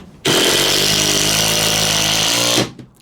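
A Makita 18-volt compact cordless driver runs a screw in with one steady, loud, high-pitched motor whine lasting about two seconds before stopping abruptly.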